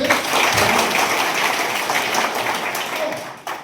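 Audience at a Netsurf training session in Sasan Gir applauding, a dense, steady round of clapping that carries on for several seconds before tapering off at the end.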